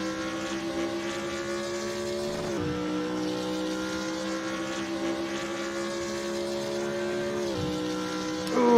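A race car at Monza powers out of the Parabolica, its engine a steady, loud harmonic drone that drops in pitch briefly at gear changes and then climbs again.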